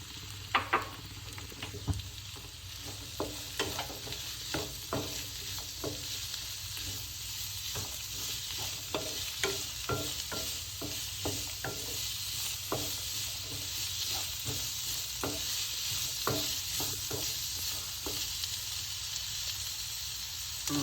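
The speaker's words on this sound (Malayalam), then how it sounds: "ഉള്ളി വാട്ടിക്കൊണ്ടിരിക്കുകയാണ്" Two onions sautéing in a pan for a coconut-milk chicken curry, a continuous soft sizzle with frequent light stirring taps and scrapes of a spoon against the pan, close and steady throughout, no talk.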